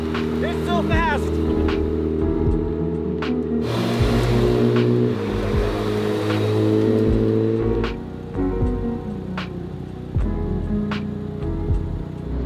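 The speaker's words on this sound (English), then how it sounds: "We're almost at full boost already, and the pulls are just strong." A stock Mazda FD RX-7 rotary engine pulls hard under boost, heard from inside the car as a loud droning tone that climbs in pitch through the gears, with occupants talking over it.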